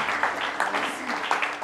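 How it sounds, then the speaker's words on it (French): A church congregation claps in brief applause, a soft, moderately dense patter of hands with a few louder peaks, heard at a short distance. "Est-ce que tu peux applaudir pour toi-même?"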